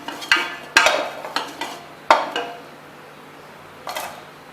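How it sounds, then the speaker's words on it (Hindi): A spoon scrapes and clatters against a pan while onions cook in ghee, with a few sharp stirring knocks spread out over a faint background. "ये गरम हो जाता है तो इसमें मैं डाल दूंगी अपने प्याज और इन्हें मैं करूंगी गुलाबी"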